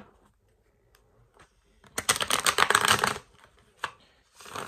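Quiet handling noises, then a burst of rapid riffling as tarot cards are shuffled for about a second, followed by a few soft taps and another brief shuffle.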